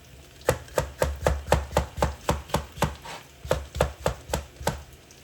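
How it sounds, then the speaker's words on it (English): Knife chopping capsicum on a board for egg fried rice, about sixteen even, close thuds in a steady brisk rhythm with a short pause midway. "you will see I keep on cutting the capsicum"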